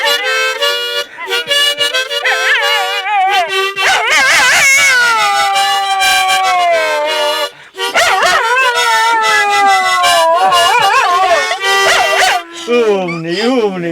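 A dog howls and yips along in long, wavering tones, as if singing, close and loud through most of the stretch, with short breaks and someone talking softly between howls.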